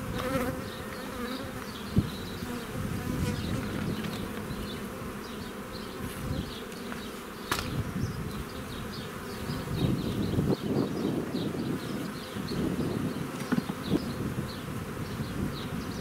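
Honey bees swarm around an opened beehive during an early-spring March inspection, a steady hum of many wings with individual bees buzzing close past the microphone now and then. The sound is moderately quiet, and no one talks.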